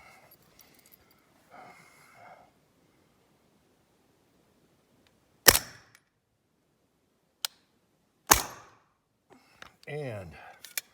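Two sharp, fairly loud shots from a 9mm AR firing light-charge test rounds, each a quick crack with a short decay, separated by a few quiet seconds and framed by soft voices and faint handling clicks.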